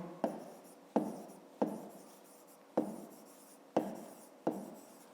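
Pen or chalk writing numbers for a fifth-grade maths exercise, six separate strokes spaced about a second apart, each a sharp tap followed by a short fading scratch, close and fairly quiet.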